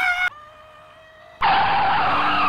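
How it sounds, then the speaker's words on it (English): A car's tyres squeal in a long skid. It ends in a sudden loud, noisy crash into another car, and the harsh roar carries on after the impact. "I just hit that dang darn car!"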